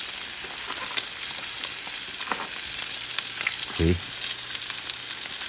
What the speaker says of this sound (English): You let the butter melt. Grab a spoon and you start adding the butter on top of the steak